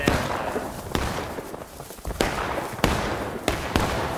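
Gunfire crackles at a Civil War reenactment of the Bloody Lane battle. About half a dozen sharp, loud reports sound at irregular intervals over a rough outdoor background.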